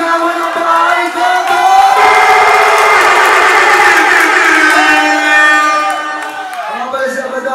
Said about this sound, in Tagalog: Aking pumilihingi ang malakas na palakpakan at sigawan ng bahay ko!